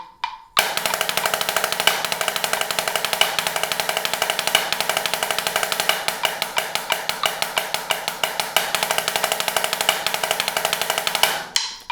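Rapid, evenly spaced drum strokes rattle out a 15-stroke roll rudiment on a snare, close and steady through the whole passage, with faint ringing and a closing accent at the end.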